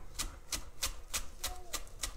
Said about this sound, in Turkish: bunları yine aynı şekilde toparlıyorum ve ince ince doğruyorum